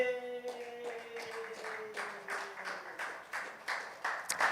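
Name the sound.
audience applause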